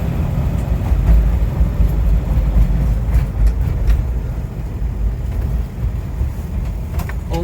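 A 1980 International Scout II Traveler turbo diesel with a four-speed manual drives along, its engine a loud, steady low rumble with slight shifts in tone as it works through the gears, and no talking.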